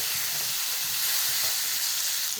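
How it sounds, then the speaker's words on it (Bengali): Raw potatoes for vegetarian aloo dum sautéing in a pan, a loud, continuous close sizzle with faint stirring underneath. "এবার নিরামিষ আলুর দম করতে শুরু করলাম। এটা ভালো করে কষে নিয়ে তারপরে প্রেসারে দিয়ে দেবো"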